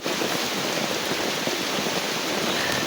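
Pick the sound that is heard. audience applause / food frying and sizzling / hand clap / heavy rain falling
heavy rain falling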